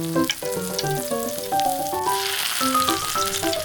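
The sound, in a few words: miniature beef steak frying in a pan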